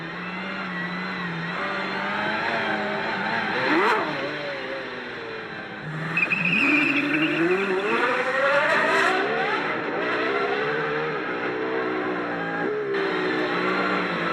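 A Mercedes race car, number 5 driven by Peter Dumbreck, screams at speed, its high engine note rising and falling through gear changes, loud and sustained with no talk over it.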